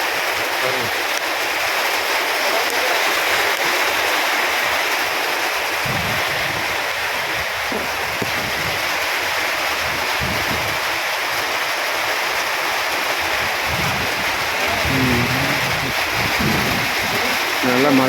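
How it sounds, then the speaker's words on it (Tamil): A downpour in Saudi Arabia keeps up a constant rushing wash of noise, with a few low gusty rumbles breaking through. The sound stays loud and even for the whole stretch, and no one talks. "நல்லா மழை பெய்யுது."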